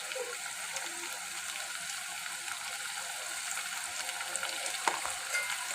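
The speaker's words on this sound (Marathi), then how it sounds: "आपला मसाला आता छान भाजला आहे" Masala with curry leaves roasting in a pan gives a steady, faint sizzle and crackle throughout, with a brief louder tick near the end and no talk.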